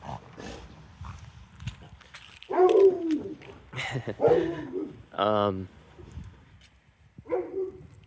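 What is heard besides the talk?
dog barking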